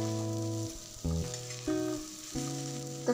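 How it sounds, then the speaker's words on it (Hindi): Chopped onions and green chillies fry in a pan for a restaurant-style chicken roll, a steady close sizzle with a few stirring bumps, no one speaking. "प्याज के साथ हरी मिर्च को भी थोड़ी देर भून लेंगे"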